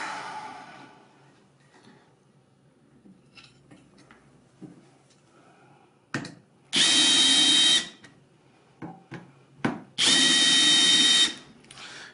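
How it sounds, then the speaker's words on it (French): Power drill driving screws into the panels of a Patiocomposteur 500 composter during assembly, two loud sustained bursts of about a second each, with quieter handling knocks between them. "je les visse pas complètement de façon à pouvoir insérer le fond"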